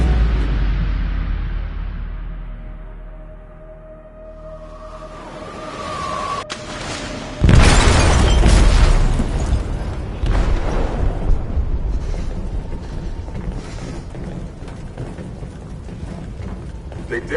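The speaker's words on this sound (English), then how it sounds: "They detonated an explosive in the hold." An explosive goes off in a ship's hold in the Detroit: Become Human video game. A sudden heavy blast erupts midway and is followed by a long, loud rumbling roar that slowly settles, after a quieter stretch with faint voices.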